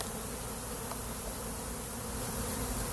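A dense, steady buzzing of about 300 honeybees in a scoop, close and continuous, filling the whole stretch without pause.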